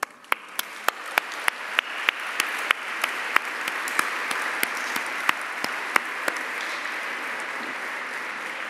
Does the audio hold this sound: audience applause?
yes